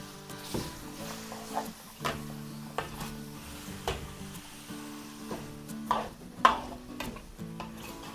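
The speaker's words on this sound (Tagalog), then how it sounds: "Haluin lang po natin maigi." Stirring food in a cooking pan for a Filipino dish, a spoon scraping and clinking in repeated strokes about once a second, with a light sizzle underneath.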